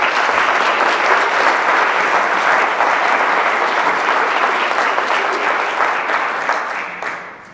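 An audience applauds steadily to welcome sports broadcaster Merrill Reese at a speaking event, a dense wash of clapping that holds strong for about seven seconds before tapering off at the end.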